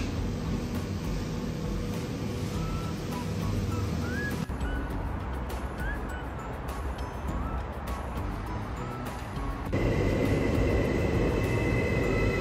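A train rumbles steadily nearby at Helsinki train station with clattering wheels and faint squeals, the noise shifting as cars roll past.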